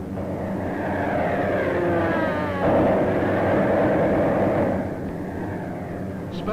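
World War II bombers on missions to Kiska in the Aleutians drone with a steady, loud, rumbling engine roar that swells slightly midway then eases, heard alone without speech.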